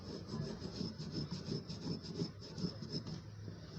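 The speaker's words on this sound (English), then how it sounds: "This is what I do to supercharge my clipper blade sharpening stone." A clipper blade sharpening stone being rubbed in quick, rhythmic back-and-forth strokes, a close, steady, gritty rasp that repeats several times a second with no talking.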